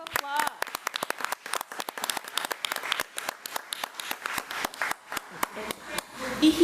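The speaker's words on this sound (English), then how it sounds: "Let's give her a round of applause" Audience applause at a school board meeting honoring an elementary student: a dense, steady wash of many hands clapping, fairly close and loud, with a brief voice at the start and a bit of talk near the end.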